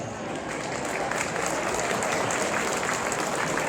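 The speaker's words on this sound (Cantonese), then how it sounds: "俾啲熱烈嘅掌聲俾佢哋" Steady, dense applause from a banquet audience at a Chinese association's Year of the Horse spring banquet in Boston's Chinatown. It fills the room evenly and continues unbroken throughout, with no voices standing out above it.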